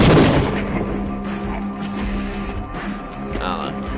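A sniper's shot in the video game Half-Life cracks loudly at the start, then fades into a low, steady in-game hum with faint scattered noises.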